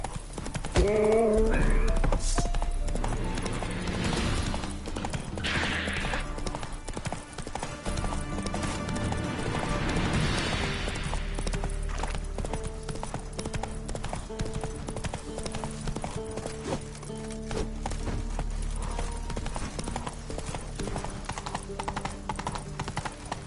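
Roach the horse from The Witcher III gallops with steady, loud clip-clop hoofbeats that run the whole time, with a whinny near the start.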